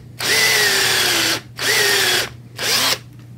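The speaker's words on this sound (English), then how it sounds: "drill a hole" A power drill whirs loudly in three bursts with short pauses between, its motor pitch dipping slightly as it bites into metal while making a metalsmith's forming stake.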